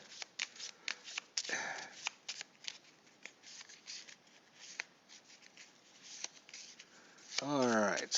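A deck of Arkham Horror card game cards is shuffled over and over at close range, with crisp riffling bursts. A voice talks briefly near the start and again near the end.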